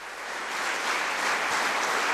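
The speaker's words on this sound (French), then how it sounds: "je pense qu'on peut les applaudir très fort" A theatre audience applauds after a stage play, a dense wash of clapping that swells slightly and holds steady with no voices.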